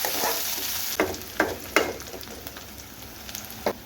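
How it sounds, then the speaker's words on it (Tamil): Onions and finely chopped green chilies sautéing in oil for a mutton masala, with a low steady sizzle broken by four or five distinct spatula scrapes against the pan, close and fairly quiet. "சேர்த்து அதுவுமே நல்லா வதக்கணும்"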